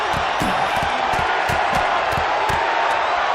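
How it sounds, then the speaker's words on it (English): Wrestling arena crowd in the WWE 2K26 video game roars steadily and loudly, with sharp thuds and hits punctuating the din throughout. "The fists are flying, and this crowd is hot."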